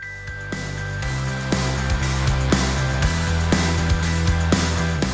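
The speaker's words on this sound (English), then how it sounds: "There's a set of bells that ping-pong back and forth, pushing the beat along." A set of synth bells in a Star Wars-inspired synth song plays as bright repeated notes alternating back and forth over a steady bass pulse and driving beat.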